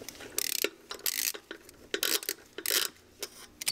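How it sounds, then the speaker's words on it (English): A ratchet on a 10mm socket clicks in quick bursts as it loosens intake manifold bolts on a Volvo 850 Turbo, close and fairly quiet, several separate strokes with short pauses between. "Using a 10mm socket, begin to remove the intake manifold bolts."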